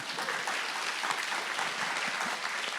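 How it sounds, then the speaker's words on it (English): A crowd gives sustained applause for authors at a book panel, dense even clapping that stays loud and steady from start to finish. "let's give these authors a round of applause"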